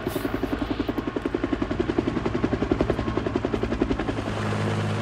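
A helicopter flies off after setting down a transmission tower section, its rotor producing a steady, loud, rhythmic chop that continues throughout with no other sounds.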